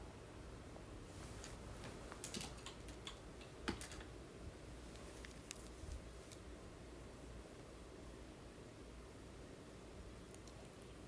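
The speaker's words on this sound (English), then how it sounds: "I'm going to zip tie that one on the next bar" Plastic zip tie being pulled tight around a bar during a fall gnome craft build, faint quick ratcheting clicks in a few short bursts over quiet room noise, with no talking.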